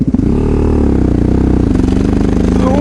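A motorcycle engine labors while pulling hard in too high a gear, giving a loud, close, throbbing drone that strains steadily, with a brief clatter at the start and a rising whine near the end.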